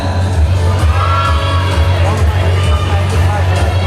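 An audience cheers for a contestant at a Mrs. Vogue Nepal World pageant finale, a loud crowd roar with whoops and shouts over a steady low music beat.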